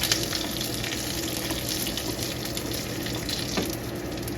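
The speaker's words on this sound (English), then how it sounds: "this frying will take out the smell from garlic" Steady, hissing sizzle of garlic frying in hot oil in a pan, close and continuous, with a few brief crackles and no voices.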